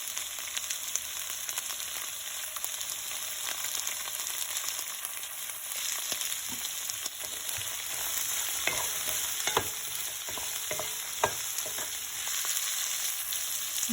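Sliced onions fry with a pinch of salt in a pan for chilli chicken, a steady close sizzle with occasional stirring clicks and no talking.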